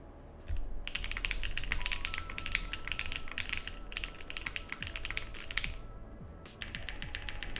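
Rapid, muted clacking of a mechanical keyboard fitted with plate foam and flex cuts, typed on in fast bursts with brief pauses, over a low steady hum.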